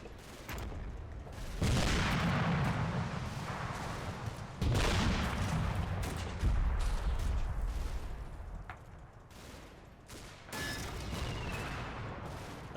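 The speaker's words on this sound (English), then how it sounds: "That was the shell hitting the Panther." Heavy impacts and blasts in a Combat Mission battle, as a tank shell strikes a German Panther tank near a farm: loud booming hits and a dense rolling crackle of gunfire and explosions, with several strong bursts through a constant din of combat.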